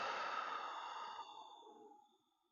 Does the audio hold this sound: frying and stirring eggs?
no